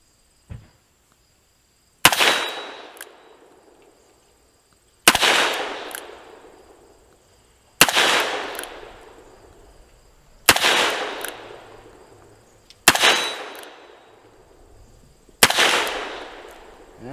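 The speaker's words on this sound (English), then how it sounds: "we have the 125 grain lead bullet, very mild 357 Magnum load" Ruger GP100 revolver firing mild 125-grain lead .357 Magnum loads, six sharp loud shots spaced about two to three seconds apart, each with a ringing decay outdoors.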